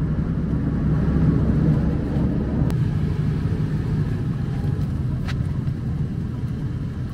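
A car drives through the plastic greenhouse area of Almería, giving a steady low engine and road rumble from inside the cabin, with a couple of brief clicks and no speech.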